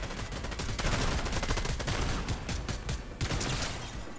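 Dense, continuous video-game gunfire rattles loud and close in rapid bursts, with no pauses, from a game session with a headshot on an infiltrator.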